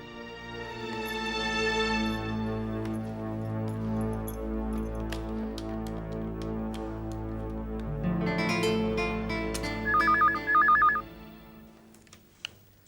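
A telephone on an outgoing call gives two short bursts of ringing tones toward the end, heard over sustained television drama background music that swells midway.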